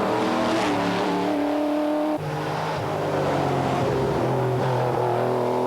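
A classic Porsche Carrera racing in the Tour de France Auto, its engine droning and revving steadily close by, with a brief gear change partway through and no talking.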